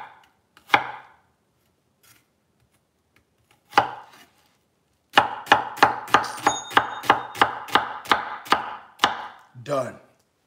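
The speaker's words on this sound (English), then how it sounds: "Okay, we cut up our onion." A knife chops an onion for Thanksgiving cooking: two isolated, sharp chops, then a rapid, even run of about a dozen close, crisp strikes, with no talking.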